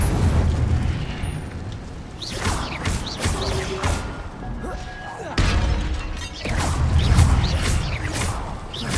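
Incendio fire spell cast in Hogwarts Legacy, bursting out in loud, rumbling whooshes and crackling blasts that swell and recur over a dense game soundscape.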